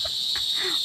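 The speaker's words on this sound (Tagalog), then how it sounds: "Kuliglig." Crickets chirp in a continuous high, steady trill near a Japanese tunnel in the afternoon, with faint background rustles underneath.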